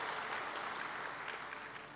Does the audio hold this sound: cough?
no